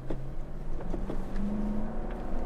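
A 2017 Toyota Land Cruiser Xtreme climbing a steep hill in second gear, a steady low engine drone with a faint rising tone, interior and close.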